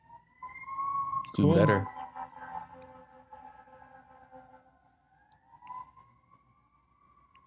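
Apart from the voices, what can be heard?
emergency vehicle sirens outside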